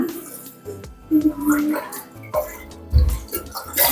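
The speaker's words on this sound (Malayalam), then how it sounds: "പാനിലേക്ക് നമ്മൾ എടുത്ത് വെച്ചിട്ടുള്ള പാല് ചേർത്ത് കൊടുക്കുന്നുണ്ട്" Milk poured into a freshly washed pan for a banana dessert, a close liquid splashing and gurgling under a voice talking over it.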